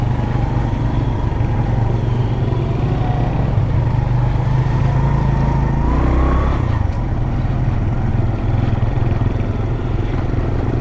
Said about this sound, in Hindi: ये बाइक इज ड्रिफ्टिंग